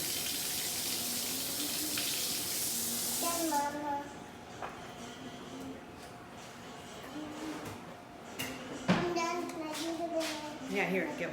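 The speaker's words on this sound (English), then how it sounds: "Go wash your hands." A kitchen tap runs steadily in a close, hissing rush for a few seconds while a child washes hands, then the water stops and a child and an adult talk over quieter handling sounds.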